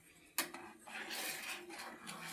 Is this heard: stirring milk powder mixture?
yes